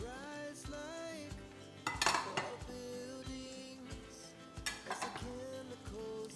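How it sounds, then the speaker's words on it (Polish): Corn and beans are stirred together in a frying pan, with a spoon scraping and clinking against the metal in a few distinct bursts over steady background music. "Wszystko razem wymieszamy."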